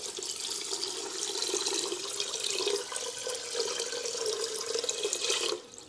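Water pours steadily into a pot of sugar to make syrup for homemade gulab jamun, a continuous close splashing fill that runs alone for several seconds before stopping abruptly.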